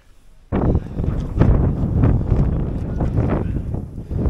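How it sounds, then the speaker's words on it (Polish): Strong gusty wind buffeting the microphone on Teufelsberg hill in Berlin, with loud, rumbling roars that start suddenly and keep surging. "Nie wiem, czy to słychać, ale trochę tutaj pizga."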